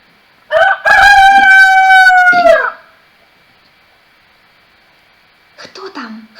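A rooster crows once, loud and close, in a long drawn-out call, followed by silence and then a brief voice.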